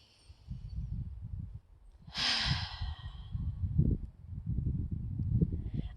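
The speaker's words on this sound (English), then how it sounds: "go ahead and take a nice deep breath" A single deep breath during a guided EFT tapping relaxation exercise: a soft, breathy rush of air midway through, near and alone over a quiet low rumble.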